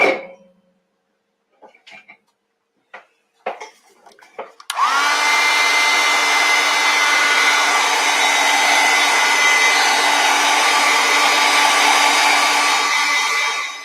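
Hair dryer blowing steadily on a wet watercolor painting of an illuminated letter J, a loud continuous whir that starts after a few faint handling noises and runs unbroken to the end.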